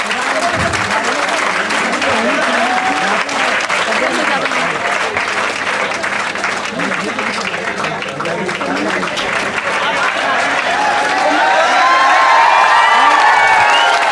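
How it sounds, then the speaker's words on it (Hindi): Sustained applause from a large crowd fills the whole stretch, loud and continuous, with scattered cheers rising toward the end. "तालियां बजती रहनी चाहिए।"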